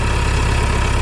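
An open cab farm tractor engine idles steadily nearby, a loud, continuous low rumble with an even chugging pulse and no talk over it.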